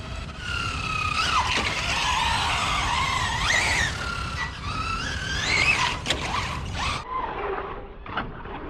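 Small tires of a Quantum Flux R 4S RC truck squeal and skid in long rising whines over a buzzing electric motor, with scrapes and clicks, fading toward the end.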